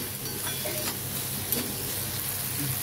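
Onion frying in a pan for a simple potato bhaji, a steady close sizzle with soft scraping stirs throughout and one brief louder clink of the spoon against the pan.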